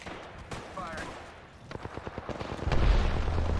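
Gunfire in the video game Apex Legends, with sharp single shots and then a quick burst of rapid fire ending in a heavier low boom, mixed with players talking.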